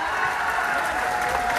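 Dense, steady applause from a large crowd at an outdoor Congress election campaign rally in Betul, a continuous loud wash of clapping with faint cheering mixed in.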